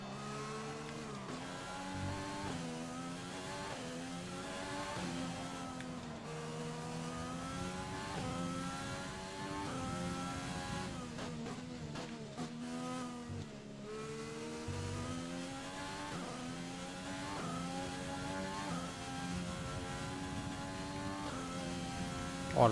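Formula 1 car in the F1 2020 video game, its engine whining steadily with rising and falling harmonic sweeps as gears shift, loud and continuous with brief dips around a third and halfway through.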